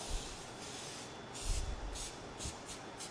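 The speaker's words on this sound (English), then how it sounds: "And before that, I will spray oil on the mold" Several short bursts of aerosol oil spray hiss in quick succession onto a tart mold, fairly close, over a low background rumble.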